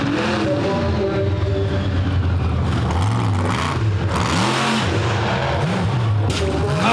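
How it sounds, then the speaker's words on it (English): Ford Supergator monster truck performing freestyle at a Charlotte, North Carolina arena show, loud engine roaring and revving in rising and falling surges amid crowd and arena noise, with the landing's puff of air buried in the din. "You heard the big puff of air bursting out of the truck as it came down a little"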